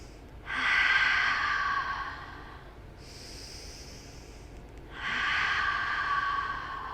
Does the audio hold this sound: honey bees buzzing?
no